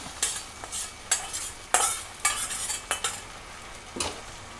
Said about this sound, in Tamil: இது எல்லாமே சேர்த்து நல்லா கலந்து விட்டுறலாம்.